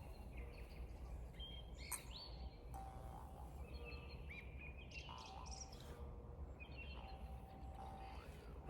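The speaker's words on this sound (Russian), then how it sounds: "Как поют птички. Вы только послушайте." Small birds chirp and tweet outdoors at a metal-detecting site: short, bright calls repeating intermittently, faint and somewhat distant over a constant low rumble of background noise.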